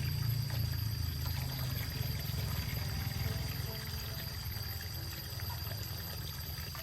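Water pours steadily from a pipe fed from a mountain source, splashing continuously at close range while something is washed outdoors on a rainy day; no voices.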